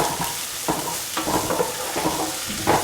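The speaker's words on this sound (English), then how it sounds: "saute the onions until they are a golden brown" Onions sauté in a hot pan with a steady close sizzle and a few scraping stirs, a continuous frying hiss and no talk.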